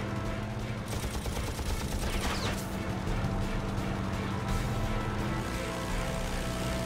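A WWII fighter fires its four .50-caliber machine guns at a Focke-Wulf 190 during a dogfight, producing a dense, loud, continuous rattle of gunfire over a roaring background.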